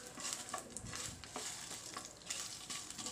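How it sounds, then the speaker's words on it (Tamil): Kashmiri and dried red chillies sauté in a pan for a spicy chutney, giving a quiet, crackling sizzle with repeated soft scrapes of stirring and no voices. "போட்டுட்டு இது எல்லாத்தையும் நல்லா வதக்கிக்கலாங்க."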